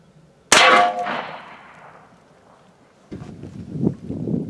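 A full metal jacket round from an AR rifle strikes a bulletproof plate with a single sharp metallic clang that rings and decays over a couple of seconds, followed by outdoor rustling and wind.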